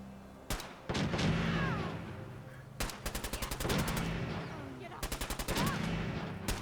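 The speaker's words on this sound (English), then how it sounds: "Both auto rifles squaring off." Auto rifles trade fire in a video game arena fight, three loud bursts of rapid automatic shots separated by short gaps, with a deep rumbling background between volleys.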